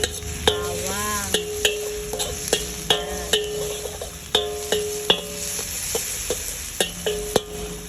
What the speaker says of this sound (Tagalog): So ayan na, nangamoy na si sibuyas. Ihahalo na natin si bawang.